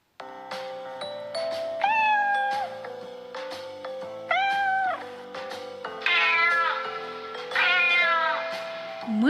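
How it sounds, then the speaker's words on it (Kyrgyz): A cat meows four times in drawn-out, rising and falling calls, spaced a couple of seconds apart over light background music. "Мышык."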